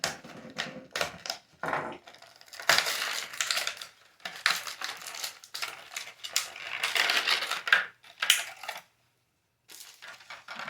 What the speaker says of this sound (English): I'm trying to be very careful with my knife right here because I don't want to cut into nothing and tear anything up